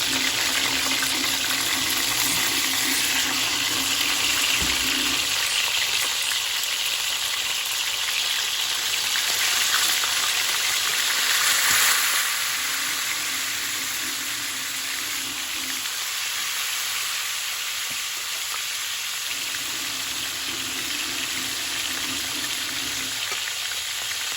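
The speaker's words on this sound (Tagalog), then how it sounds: "magpiprito na tayo ng isda. Mainit na mainit yung ating kawali para hindi dumikit talaga yung ating isda." Dalagang bukid fish fries in very hot oil in a kawali, giving a loud, steady, close sizzle that crackles without pause for the whole stretch, with no talking.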